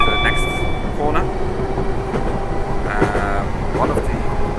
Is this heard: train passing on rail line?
yes